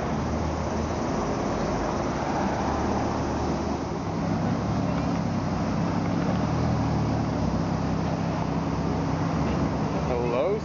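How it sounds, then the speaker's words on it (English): Supercars driving through a Roppongi street in Tokyo, heard as a steady, close engine and traffic roar that runs unbroken for the whole stretch, with no single clear pass-by standing out. "One supercar goes, another arrives."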